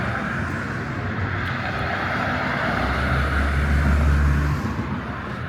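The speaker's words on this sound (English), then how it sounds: "It is such a loud area. There are cars almost any time of the night." Traffic on a loud city street at night, a steady broadband roar of passing cars with a heavier low rumble as a louder vehicle goes by near the end; no voices.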